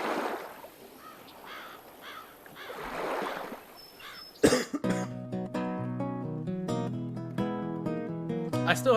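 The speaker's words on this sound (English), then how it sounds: "I still have a little bit of a cough" Several breathy, raspy coughs come in close succession from one person, then give way abruptly to music.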